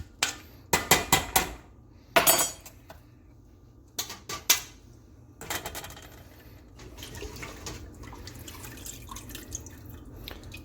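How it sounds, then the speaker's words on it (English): Rice stirred into a pot of homemade chicken stock: a run of sharp clinks and knocks of a utensil against the pot, then a softer, continuous swishing and sloshing of liquid, close by with no talk. "Just want to mix up the rice."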